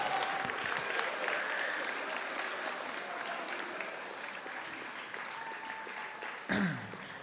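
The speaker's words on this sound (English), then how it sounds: "please give a round of applause for all of those that are standing" Students and guests applaud at a school athletic assembly, steady indoor clapping that gradually softens over several seconds, broken near the end by a brief sharp knock.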